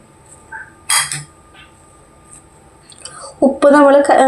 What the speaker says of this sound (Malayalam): ഇനി നമുക്കിതൊന്ന് നന്നായിട്ടൊന്ന് മിക്സ് ചെയ്യാം